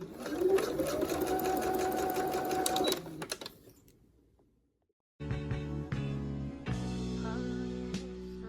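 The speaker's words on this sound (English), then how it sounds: "put this on my machine and I'm going to be top stitching at the very edge using a straight stitch" A sewing machine runs a straight top stitch along a fabric edge in a steady, fast whir, then stops briefly before more close mechanical running and clatter.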